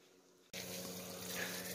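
A hose spray switches on abruptly after a brief quiet moment and then hisses steadily and loudly, watering down wood mulch in a garden bed.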